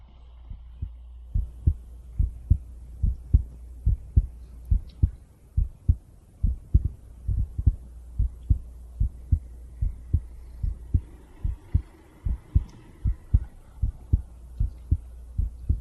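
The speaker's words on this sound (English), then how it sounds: "We do heartbeats next, and then ear lickies." Amplified heartbeat in a live 3Dio binaural ASMR stream, a steady, close, low thumping pulse repeating roughly twice per second throughout with a faint hum beneath and no talking.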